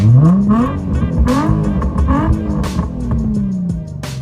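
A Mercedes C63 engine revs loudly and close up, rising and falling in pitch through several throttle blips with a deep, rough exhaust tone.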